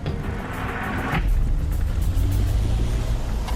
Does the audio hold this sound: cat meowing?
no